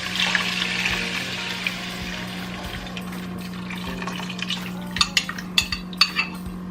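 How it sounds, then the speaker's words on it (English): Coconut milk made from powder and water pours into a pot with a soft gurgling wash, followed by a few light clinks of a utensil against metal over a low steady hum. "I am going to add some coconut milk."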